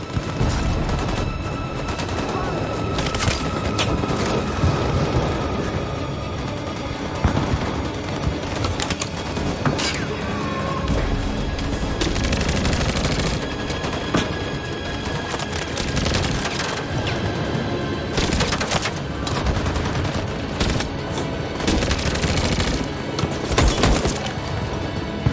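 Dense, continuous gunfire in the Detroit: Become Human video game, with repeated loud shots and bursts throughout, steady and close, with no talking.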